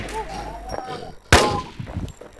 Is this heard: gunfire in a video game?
yes